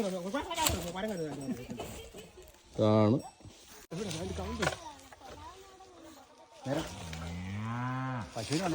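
A cow moos with a deep, drawn-out low twice, once briefly and then in a longer call, alongside steady nearby human talk.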